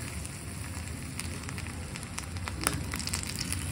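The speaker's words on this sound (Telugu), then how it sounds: "బాగా వేడిగా అయినప్పుడు ఫ్రై చేస్తే లూజ్ ప్రాన్స్ క్రిస్పీగా వస్తాయి" Loose prawns frying in very hot oil, a soft steady crackle and sizzle throughout, close and fairly quiet with no talking.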